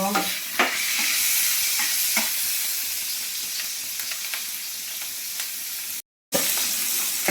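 Panch phoron spices frying in hot oil in a kadai, a steady loud sizzle and hiss with occasional sharp crackles and pops throughout, briefly cut to silence near the end before the sizzling resumes.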